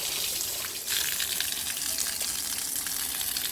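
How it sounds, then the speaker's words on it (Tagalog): Water gushes steadily while lokan seashells are washed, a loud close continuous splash and pour lasting a few seconds with a slight shift partway through. "hugasan na yan ni Pens."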